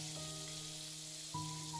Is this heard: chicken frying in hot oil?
yes